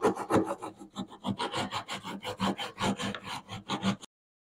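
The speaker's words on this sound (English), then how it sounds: "Then we'll sand the tops, get these sharp bits off, and we'll be good to go." Repeated rhythmic rasping strokes of sandpaper rubbing across the tops of wing molds, close and steady with short pauses between passes, no talking.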